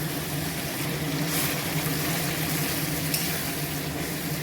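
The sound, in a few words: spice paste poured into pan, frying for chicken curry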